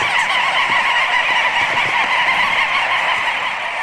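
A dense, continuous din of a seabird colony of millions calling at once, a loud unbroken chorus of overlapping cries with no voices.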